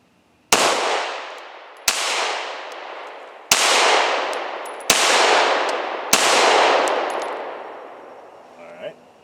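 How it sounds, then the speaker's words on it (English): Five loud pistol shots fired one-handed at a target on a shooting range, each a sharp crack trailed by a long echoing decay, spaced roughly one to one and a half seconds apart. "I'm going to draw 5 shots strong hand only on number 5."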